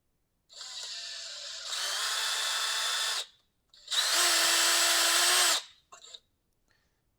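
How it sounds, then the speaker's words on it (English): A power drill drilling a Proton Pack control panel lens whirs in two bursts, the first stepping up in speed, then a brief pause before a second louder, higher-pitched run, with a short blip after. "I'm going to drill at the other one so they'll be easier."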